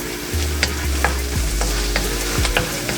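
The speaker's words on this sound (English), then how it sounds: "let's toast the chilies. I have Thai chilies in there, red chili" Thai, red and serrano chilies toasting in a hot pan for Bicol Express, a steady close sizzle and fry with a few stirring scrapes, no voices.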